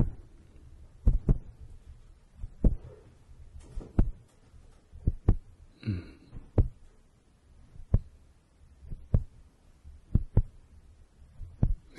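Heartbeat sound effect in an ASMR session, with soft thumping pulses at an irregular pace and a brief soft rustle midway, heard alone without talk.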